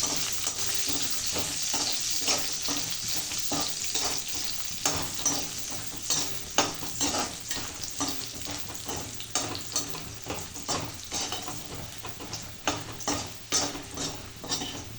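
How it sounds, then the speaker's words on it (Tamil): Dried red chillies, stems left on, fry in a pan: a close crackling sizzle with repeated scraping stirs of a utensil, and no voices. "இப்போ மிளகா போட்டுக்கலாம், காஞ்ச மிளகா"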